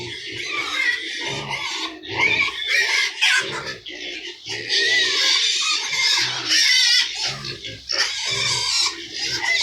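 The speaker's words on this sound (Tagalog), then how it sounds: "Naingay yung mga baboy." Pigs on a farm squeal and grunt in loud, high bursts over several seconds, with a voice speaking intermittently underneath.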